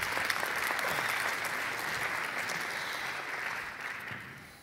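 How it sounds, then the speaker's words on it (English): Audience applause after an introduction at an Invictus Games Foundation event: a dense, steady wash of many hands clapping throughout, fairly loud and close, easing off slightly near the end with no talk over it. "you can give them a round of applause"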